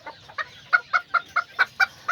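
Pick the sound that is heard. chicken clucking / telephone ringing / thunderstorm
chicken clucking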